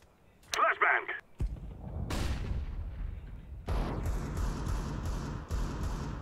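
A flashbang grenade detonates in the game CS:GO with a sharp, loud burst, followed by a sustained ringing-like wash of sound mixed with muffled gunfire and game noise.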